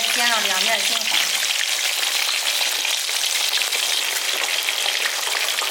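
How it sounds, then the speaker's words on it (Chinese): Crucian carp fry in a pan of generous hot oil, a loud dense sizzle with a brief bubbling burst at the start, then a steady crackling hiss close by throughout. "它放到油锅里边，给它煎一下，油放多一点。"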